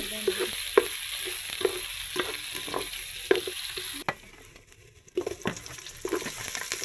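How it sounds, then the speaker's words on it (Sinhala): Onions and curry leaves sizzle and fry in a hot pan for Sri Lankan chicken kottu, a steady crackling hiss broken by repeated stirring scrapes, with a brief quieter pause midway before the frying noise returns. "ලොකු ලුණු ටිකත් එකතු කරගෙන ටිකක් අවලං කර ගන්න ඕන"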